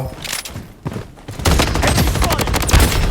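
Gunfire from an SVD sniper rifle in the mobile shooter Blood Strike: a quieter stretch of scattered shots, then from about halfway a loud, dense run of rapid reports that keeps going to the end.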